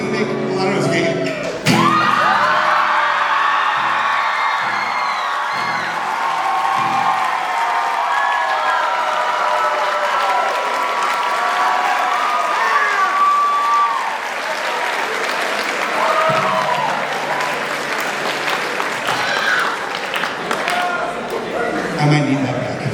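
A school assembly audience breaks into loud, sustained screaming, cheering and applause that lasts about twenty seconds. Whoops and shouts rise over a dense wall of clapping, with some voices mixed in.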